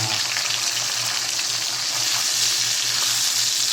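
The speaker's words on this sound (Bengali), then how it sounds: "যখন মাছটা বাদামি কালার এসে যাবে মনে হবে যে আপনার হয়ে গেছে প্রায় ভাজা তখন আপনি মাছটা এইভাবে উল্টাই দেবেন" Fish fries in a pan, a loud, close, continuous crackling sizzle with a low pulsing hum beneath, as the fish is turned partway through; no voices.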